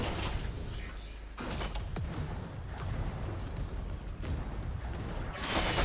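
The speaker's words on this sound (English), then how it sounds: "He opened the airlock." Spaceship airlock in the Dead Space remake grinding and creaking open, loud mechanical rumble with sliding and ratcheting layers, shifting in texture partway through and swelling again at the end.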